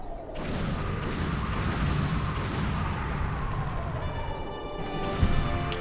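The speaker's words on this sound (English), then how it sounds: "Tons of explosions." Explosions in the Nintendo 64 game Star Fox 64 form a dense, continuous roar of rumbling blasts, with a sharper hit near the end.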